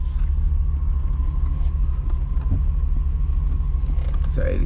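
A 1987 car being driven, its engine giving a steady, loud low rumble that runs the whole way through, with a few faint rattles and clicks on top.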